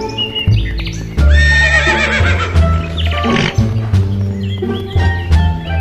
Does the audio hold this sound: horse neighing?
yes